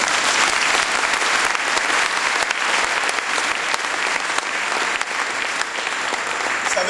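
A church congregation applauding, a dense, loud and sustained wash of clapping from many hands that fills the room, with no one talking.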